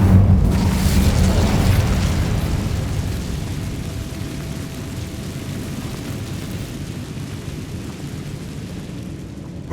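Incendium fire spell cast in the Hogwarts Legacy video game, a loud booming whoosh of flame at the start that settles into a steady rumbling roar and fades slowly.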